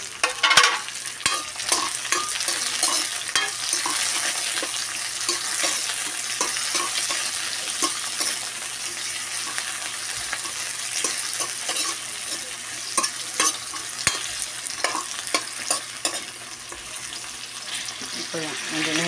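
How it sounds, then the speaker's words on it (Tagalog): Filipino adobong takway with tomato sizzles and fries steadily in a pan while a utensil stirs and scrapes through it, close and continuous, with faint running water in the background. "Ihalo-halo natin ng mabuti para maluto yung ating sangkap."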